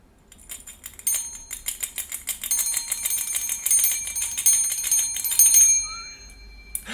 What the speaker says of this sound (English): I think we're gonna need a little tension bell.